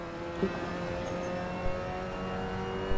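A Mazda MX-5 race car engine in a racing simulation at Snetterton drones steadily at low volume with a faint, sustained hum and small surges, no talk.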